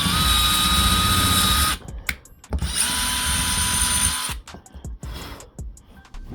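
A power drill whines loudly in two bursts, the second shorter, separated by a pause, followed by light clatter and handling noises nearby.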